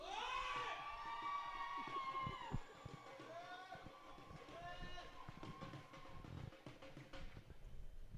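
A crowd cheers and shouts with whistle-like cries at a Swaminarayan Pro20 cricket match between Purple Dot Ndovus and Mombasa Cement Giants. The roar is loud and sustained, with voices rising over it throughout.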